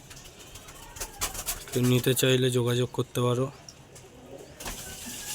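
Young pigeons kept for sale, with low cooing calls and bird sounds close by under someone talking, the voice dominating much of the time.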